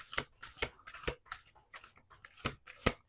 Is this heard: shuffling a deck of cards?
yes